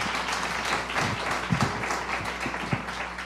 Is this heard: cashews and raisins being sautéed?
no